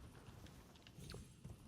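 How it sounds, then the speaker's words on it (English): Faint clip-clopping hooves of a horse climbing a staircase in the video game Elden Ring, a quick, uneven patter of soft thuds over a low background hum. "Maybe there's a reason you shouldn't take a horse up a staircase."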